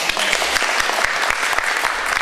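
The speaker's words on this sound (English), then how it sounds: "Yes, clap." An audience at a talk about Enbridge and coastal tanker traffic claps, producing dense, steady applause that fills the room evenly throughout, loud and close with no voices over it.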